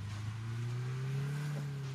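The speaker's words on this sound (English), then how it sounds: "Sounds like a car." A car engine in a video game drones steadily, holding a low tone that rises slightly in pitch over two seconds, loud and alone with no talk.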